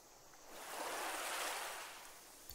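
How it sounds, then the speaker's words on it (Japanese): In a Japanese adventure game, a single ocean wave washes in: a soft, broad hiss that swells and fades over about two seconds, fairly quiet, with no talking. "次の目的地である海が近づいてきた。 波の音が聞こえると、"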